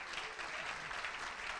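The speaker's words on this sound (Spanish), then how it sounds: "El artista, un aplauso." An audience at a science talk on climate change applauds a child artist, a brief, dense burst of clapping heard fairly quietly, with no speech over it.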